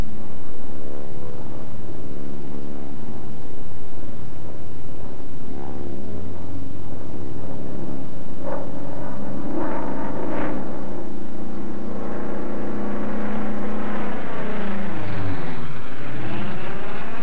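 An F8F Bearcat propeller fighter drones loudly and steadily, its engine and propeller tone sweeping and shifting in pitch as it passes close by with no voices.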